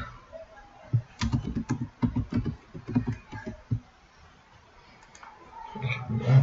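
Rapid computer keyboard typing and mouse clicks ring out close and clear in a quick run of taps, then fall quiet before a low hum rises at the end.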